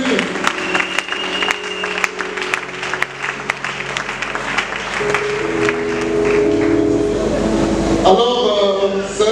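Church congregation applauding a visiting bishop in a hall, steady broadband clapping throughout with a crowd murmur, while sustained musical tones or voices swell and rise near the end.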